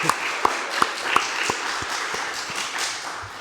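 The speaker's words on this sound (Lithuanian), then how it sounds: "Galim mes paploti kartu dabar Dievui?" A church congregation claps along in a few sharp, evenly spaced beats, then breaks into a dense, continuous wash of applause.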